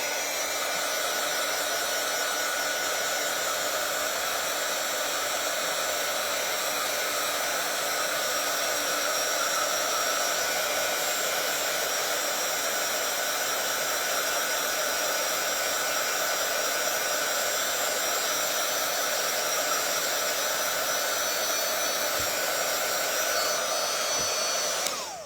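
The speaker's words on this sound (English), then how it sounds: "I'm just going to zap it a little bit with the dryer" A hair dryer blows continuously and loudly with a steady whirring hum, drying paint on an art piece, running unbroken for the whole stretch before cutting off at the end.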